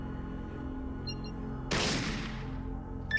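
A single gunshot in the Fallout video game, fired at an unconscious character: one sharp blast that rings out and decays over about a second against a quiet, humming game background.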